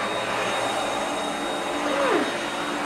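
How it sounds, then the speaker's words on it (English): A very small household vacuum cleaner runs with a steady whining drone nearby, its pitch briefly sliding as it moves. "Now I'm just vacuuming"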